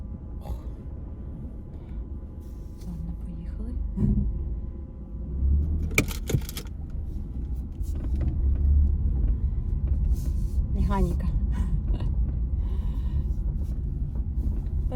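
A car with a manual gearbox runs at close range, with a low engine rumble that builds and holds steady from inside the cabin. Keys jingle and there are brief clicks and clunks partway through, and no one speaks.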